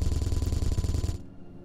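Rapid automatic gunfire in the space-building game Space Engineers rattles in a steady, loud stream of shots for about a second before cutting off abruptly into quiet hum.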